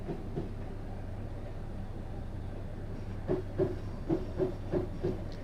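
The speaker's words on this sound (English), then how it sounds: "I've now shut off the power just to allow the train to coast until we can accelerate further" A passenger train in Train Simulator 2017 coasts with the power shut off on the London Bridge to Victoria route, giving a quiet steady rolling hum with a run of evenly spaced rail clicks near the end.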